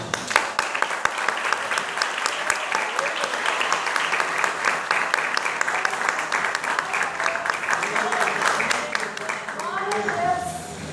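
A congregation applauds in church during an evening sermon, with loud, sustained clapping that fills most of the stretch, then thins and fades near the end as a voice comes in.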